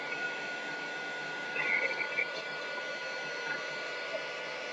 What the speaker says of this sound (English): If you get too close with your dryer, it might melt on you.